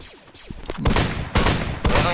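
Gunfire in the mobile shooter Free Fire sounds as three loud, close bursts of rapid shots in quick succession, following a few faint, quieter sounds at the start.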